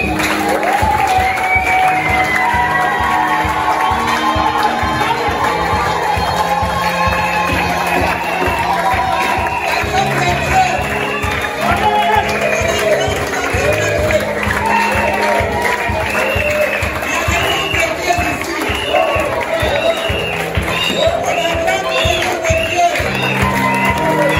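A church congregation cheers and applauds Jesus in loud, sustained clapping mixed with shouts and whoops that fill the whole space without a break.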